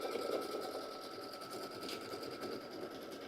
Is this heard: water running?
no